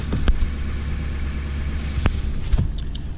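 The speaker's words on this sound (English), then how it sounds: "This thing's high idling right now." A 2019 Chevy truck engine idling high, a steady low rumble inside the cab with a few sharp clicks and knocks over the top.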